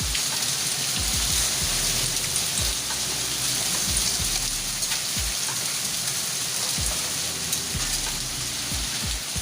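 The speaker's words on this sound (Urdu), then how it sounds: "بہت ہی خطرناک قسم کی بارش، طوفانی بارش." Heavy storm rain pours down in Dadyal, Azad Kashmir, a dense continuous hiss of drops on surfaces with scattered low thuds and drips running steadily throughout.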